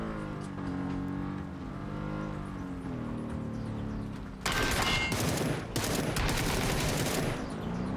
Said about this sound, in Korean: 이건 누가 총소리를 내었는가?